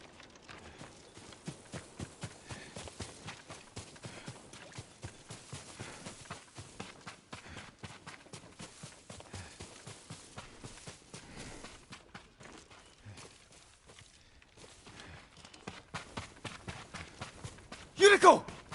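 Hooves of a horse clip-clop at a steady walking pace through an open outdoor scene in the samurai video game Ghost of Tsushima, with brief low voices, a faint ambient bed, and a louder burst of sound near the end.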